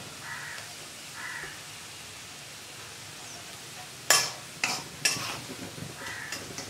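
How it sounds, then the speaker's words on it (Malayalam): Ginger sizzles quietly in hot oil in a pan, a soft frying hiss broken by several sharp scraping clinks of a utensil stirring near the end, with faint bird calls in the background. "ഇഞ്ചി ഇതുപോലെ നന്നായിട്ട് എണ്ണയിലിട്ട് വഴറ്റി മൂപ്പിച്ചെടുത്താൽ മാത്രമേ കറി നല്ല ടേസ്റ്റായിട്ട് കിട്ടുകയുള്ളൂ"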